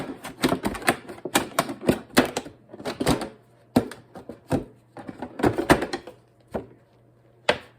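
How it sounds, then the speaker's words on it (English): Plastic container sides being cut open to form a hinged lid for winter-sown onion and leek seeds, heard as crisp, close snipping and cracking clicks in irregular bursts with brief pauses; no one speaks. "Don't cut through the lid, you're cutting on the sides so that you create a hinge."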